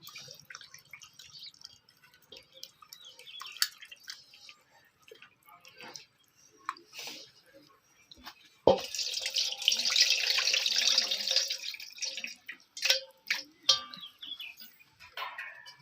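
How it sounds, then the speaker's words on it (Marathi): Quiet splashing and dripping of water in a sink as raw chicken is rinsed and handled in several changes of water, with a burst of running water midway. "आता ही दोन ते तीन पाण्याने का नाही चिकन स्वच्छ असं धुवून घ्यायचंय"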